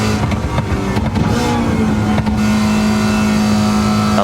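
Car engine in a racing video game downshifting through a chicane at No Hesi on a Wangan Midnight track, loud and close, with quick revving blips at each gear change before settling into a steady, droning pull.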